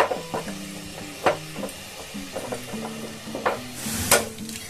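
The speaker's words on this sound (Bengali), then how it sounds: "এবার পরপর আমি আবার ভেজে নেবো" Besan (gram flour) sweets frying in hot oil, a steady sizzle broken by stirring scrapes and a few sharp clinks of a utensil against the pan, close and fairly loud.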